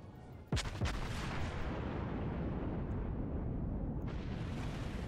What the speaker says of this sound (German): So, die Schüsse kommen, aber nicht genug vorgehalten.